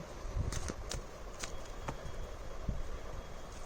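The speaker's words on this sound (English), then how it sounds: "I'm shuffling the card properly because I have done so many readings" Tarot cards being shuffled by hand during a reading: a steady soft papery rustle with scattered light snaps and taps, fairly close and continuous, no one talking.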